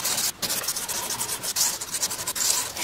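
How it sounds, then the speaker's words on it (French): A large sharpening stone rubs over the surface of a marquetry veneer saw blade, a close, steady rasping scrape in repeated strokes with brief pauses. "Là, la pierre, c'est ma grosse pierre, pour enlever toutes les traces de la lime."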